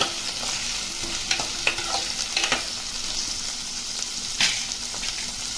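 Brinjal frying for vangibath in a pan: a continuous bright sizzle of oil with several quick scraping stirs, close up and loud, without any talk.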